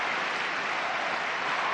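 Arena crowd at a 1989 World Gymnastics Championships all-around event applauding a gymnast, a brief, even burst of steady clapping with no break.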